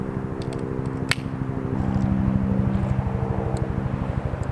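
A military helicopter passes overhead near the Han River, its steady low rotor and engine drone swelling slightly toward the middle and holding loud throughout, with a faint click partway through.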